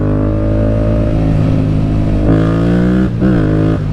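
A Yamaha MT-07 motorcycle engine revs loudly and close, a steady throaty drone that climbs in pitch around the midpoint, dips briefly, then surges again near the end, with no voices over it.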